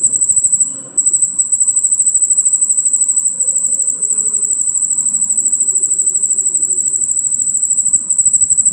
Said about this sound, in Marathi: फास्ट रातकिडा आवाज करत आहे.